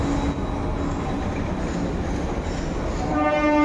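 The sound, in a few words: underwater metro train running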